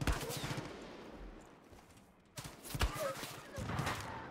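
Enemy gunfire in the shooter game Far Cry 5, with bursts of shots and rattling fire in uneven clusters, a lull in the middle, then sharp shots again, with someone talking over the action.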